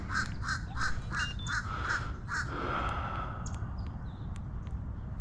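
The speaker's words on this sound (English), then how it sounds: "It's a big old raspy crow." A raspy crow cawing near a Florida waterline, a series of about seven hoarse, evenly spaced caws over steady outdoor background noise, with fainter bird chirps afterward.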